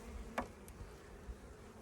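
Honeybees from a weak hive colony, with few bees on the frames, hum in a faint, steady drone, broken by a brief louder buzz of a single bee passing close.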